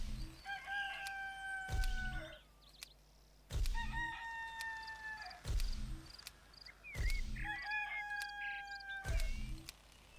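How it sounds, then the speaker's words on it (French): A rooster in the video game Black & White 2 crows again and again, about five loud, drawn-out calls in a row, each opening with a sharp thump and separated by short gaps. "Vous avez cloué le bec à cet insupportable coq."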